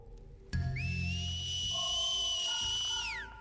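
In The Last of Us Part II, an enemy's communication whistle, sustained, high and slightly wavering, rises and holds for a couple of seconds before falling away, over low background tones.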